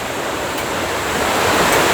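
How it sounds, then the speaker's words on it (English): Rain-swollen little creek flowing steadily after five days of heavy rain, a continuous broadband rushing wash close by and fairly loud, swelling slightly toward the end, with no talk. "We're coming back up to the little creek, which is flowing because, like I said, it's been raining for 5 days solid."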